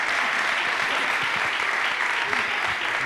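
Audience applause fills a talk session on football, a steady wash of clapping from a crowd that holds evenly throughout without letting up.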